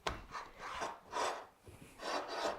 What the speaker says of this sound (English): So I will grease my pan,